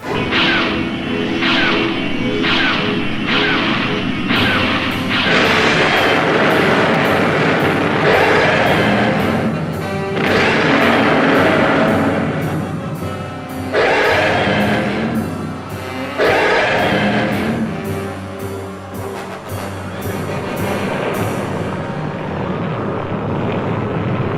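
Film soundtrack of bombers overhead dropping bombs, a dense loud roar of aircraft engines with repeated rhythmic pounding blasts and whooshes running continuously, no clear talking.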